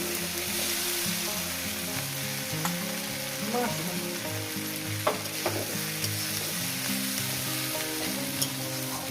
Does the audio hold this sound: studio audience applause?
no